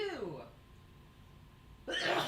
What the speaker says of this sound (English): I feel like I have a sneeze coming.